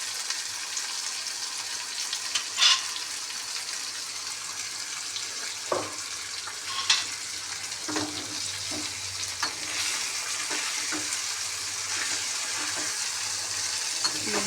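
Egg frying in a pan with salt and turmeric makes a continuous, close hiss and sizzle, broken by occasional stirring taps and scrapes, with no one talking.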